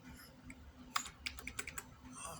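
Keys on a computer keyboard are tapped in a quick irregular burst of about eight clicks, close and quiet over a faint low hum.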